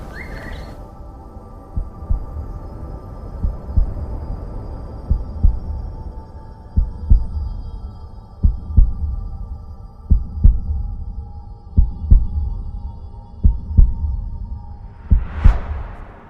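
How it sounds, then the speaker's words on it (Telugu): A heartbeat thumps up close and loud, each beat a soft double pulse repeating about every one to two seconds over a low hum, with a brief whoosh near the end. "చెప్పు, నీ క్లోజెస్ట్ సౌండ్ ఏంటి? నీ హార్ట్ బీట్"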